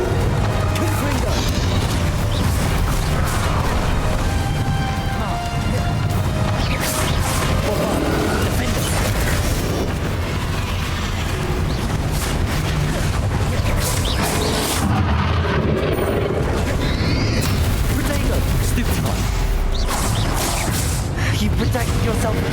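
Repeated Confringo blasting-spell explosions in a Hogwarts Legacy duel, dense booms and crashes layered over steady combat noise and a sustained voice throughout.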